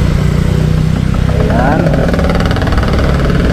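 Philippine street traffic with motorcycle engines idling and revving close by, a loud, rumbling drone that fills the whole stretch while someone talks over it.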